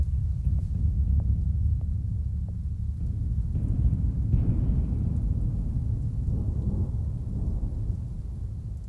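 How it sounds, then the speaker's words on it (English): A thunderstorm rolls on with deep, continuous rumbling thunder and a wash of rain, swelling slightly midway and holding steady with no voices. "Looks like you brought a storm with you."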